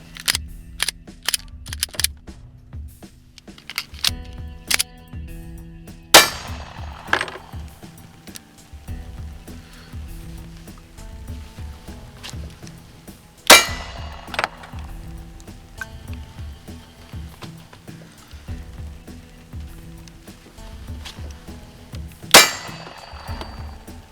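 Handgun shots fired from inside a car crack out as three sharp, loud reports spaced several seconds apart, ringing against quieter clinks and handling noises in between.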